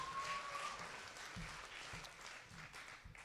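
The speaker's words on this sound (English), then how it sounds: "Give them a round of applause." Audience applause at a school spelling bee: steady, moderately loud clapping from a crowd filling the whole stretch, with no talk over it.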